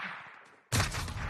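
Gunfire in a video game bursts in suddenly and loudly partway through, a dense volley of shots after a quieter stretch of faint game ambience.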